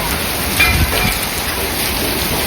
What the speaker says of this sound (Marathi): एवढा मुसळधार पाऊस है मित्रों गारा चालू है